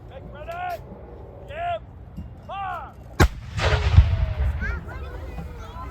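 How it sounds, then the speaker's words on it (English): A single sharp, booming 18th-century cannon shot cracks out and rumbles away at a Revolutionary War reenactment, preceded by a few calls and followed by a lingering low echo. "how to fire an 18th century cannon"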